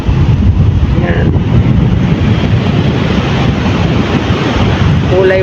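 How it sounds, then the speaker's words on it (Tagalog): Strong sea waves and gusting wind on a shore, a loud, continuous roaring rush with heavy wind buffeting the microphone throughout. "update sa alon. Sobrang lakas na po talaga."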